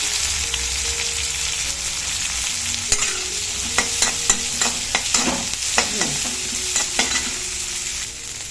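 Garlic, shallots and onion fry in a pan with a steady sizzle, joined midway by a rapid run of sharp spatula scrapes and taps against the pan, close and distinct.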